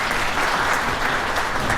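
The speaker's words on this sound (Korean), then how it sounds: "아버님의 따뜻한 축사를 위해서 큰 박수 부탁드리겠습니다" Wedding guests break into a loud, continuous round of applause for the groom's father just before his speech, a thick wash of clapping with no voices.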